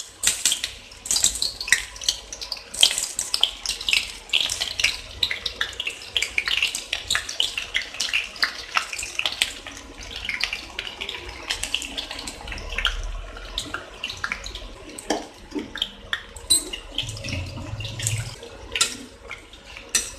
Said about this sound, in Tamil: நல்லா கிறிஸ்பியா ஃப்ரை ஆகணும், அது வரைக்கும் நம்ம இதை வந்துட்டு பொரிச்சு எடுத்துக்கலாம்.